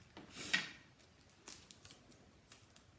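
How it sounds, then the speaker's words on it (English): Scissors snipping through a piece of craft tape while making a junk journal: one crisp cut with a sharp blade swish, followed by softer rustling and a few lighter snips, close and quiet with no talk. "we get our tape and cut another piece"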